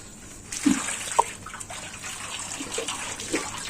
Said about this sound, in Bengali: এখন এর সাথে আমি একটু পানি মিশাবো